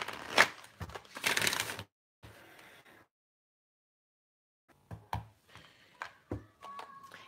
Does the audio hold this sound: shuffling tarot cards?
yes